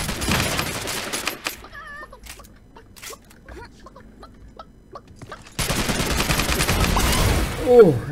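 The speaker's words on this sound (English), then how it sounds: "Someone's getting shot at." Video game gunfire crackles in bursts, a few sharp shots at the start and then a loud, dense volley that fills the last few seconds.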